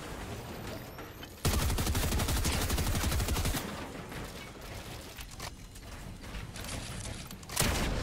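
Rapid bursts of SMG fire from the Fortnite video game, a dense loud rattle opening the clip and returning briefly near the end, with quieter mechanical game sounds between bursts.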